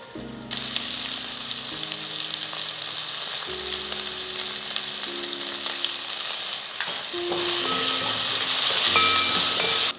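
Onions sizzle and fry loudly in a hot pan, a steady crackling hiss with some stirring and occasional metallic clinks.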